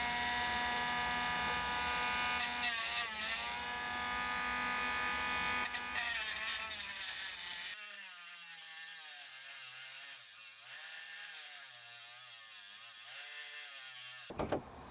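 A Dremel rotary tool fitted with a sanding stone grinds notches into a DIY guitar-building tool, a close, high, steady whine that shifts in pitch as it bites and eases, running almost the whole time.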